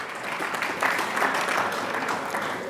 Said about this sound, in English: A round of applause to thank sir once again.